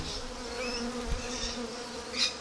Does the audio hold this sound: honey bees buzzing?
yes